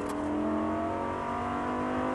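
A Lamborghini Gallardo LP570 sports car engine roars steadily and loudly, its pitch climbing slightly as it accelerates, with no voices.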